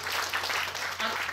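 An audience claps briefly at a groundbreaking ceremony for a day-care and social welfare centre in Fengshan, Kaohsiung. The applause is moderately loud and steady, with no words heard.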